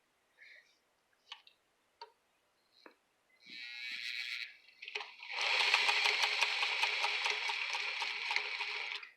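A Singer 237 sewing machine, made 1968 to 1972, sews hand warmers. A few soft clicks and handling sounds come first, then a short burst of stitching and a steady, close run of rapid ticking stitches.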